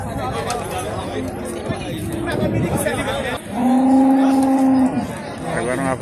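A cow gives one loud, sustained moo, close by, over the steady chatter and crowd noise of a busy cattle fair.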